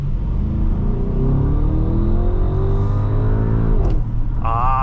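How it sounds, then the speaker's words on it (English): A 2025 Audi SQ7 4.0T Prestige engine revs up under throttle on a test drive, a loud, steady rising rumble with climbing harmonics for several seconds, then a brief drop and a higher whine near the end. "Let's give her a little bit of gas."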